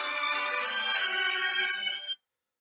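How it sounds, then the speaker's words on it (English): A mobile phone rings with a single sustained electronic tone, bright and loud, for about two seconds, then cuts off abruptly into silence. "I have my phone ring."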